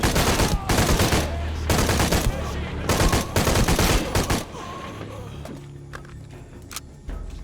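Gun blade firing in Shadow of the Tomb Raider. Rapid bursts of loud automatic gunfire come in several close volleys, then give way to scattered sporadic shots and faint footsteps and clatter.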